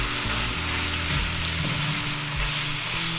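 Vegetables and tofu fry in a hot pan for mapo tofu, a loud, continuous close sizzle with a low humming tone beneath and occasional shifts as ingredients are stirred.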